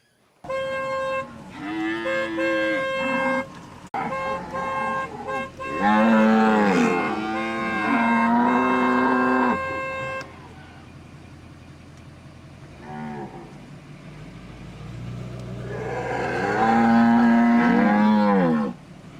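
Cattle on a ranch moo loudly and close by in several long, drawn-out calls, with brief pauses between them and a low engine-like hum underneath.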